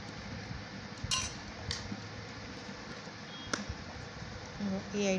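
Silver items clink as they are dropped into cleaning liquid: a few sparse, bright metallic taps at irregular intervals over a quiet background, fairly soft and close.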